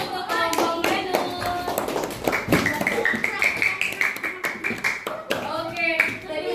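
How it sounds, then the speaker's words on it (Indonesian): A classroom group claps for group Venus after their presentation, the applause scattered and moderately loud, with children's voices and chatter mixed through it. "beri tepuk tangan untuk kelompok Venus"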